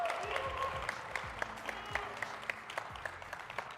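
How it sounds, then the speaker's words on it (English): An audience applauds a guest leaving the stage at a manufacturing conference session, with individual claps standing out against a fairly light, sparse round and some murmured voices beneath. "Everybody, round of applause."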